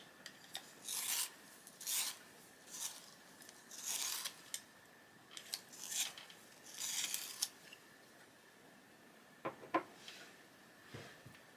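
A cactus green colored pencil is sharpened in a series of short, dry rasping bursts separated by pauses, close and fairly quiet, ending with a few faint clicks.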